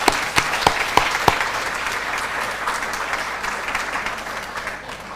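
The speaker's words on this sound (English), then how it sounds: "So I think they really deserve a huge round of applause." Audience applause at a community-of-practice gathering in Ljubljana, Slovenia: a broad, steady wash of many hands clapping, with a few sharp individual claps at the start, sustained and fairly loud, then slowly easing off.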